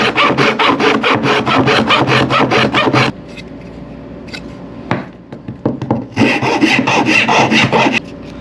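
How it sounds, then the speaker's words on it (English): Rasp file scraping along a wooden edge in repeated quick strokes, loud and close for about three seconds, a pause with light handling knocks, then another burst of rapid rasping strokes. "Now I'll take a raspy file and clean up this edge here."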